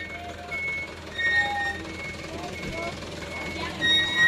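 A vehicle reversing to let a van out at a beach resort gives off thin intermittent warning beeps, faint beneath steady outdoor ambience and nearby chatter.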